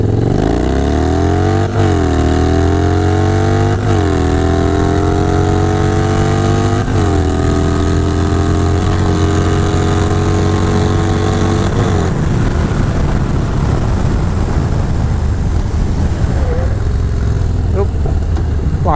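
A Yamaha Bolt C-Spec 950 middleweight cruiser motorcycle loudly accelerates up through several gears, each rising rev climb cut by a shift, then settles into a rougher rumble. The engine is close and dominant throughout.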